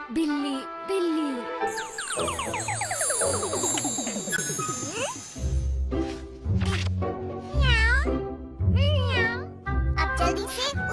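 A boy in a Hindi-dubbed Doraemon cartoon imitates a cat after drinking a transformer potion, giving several loud, drawn-out meows and wailing caterwauls with rising and falling pitch, mixed with cartoon music and jingling effects.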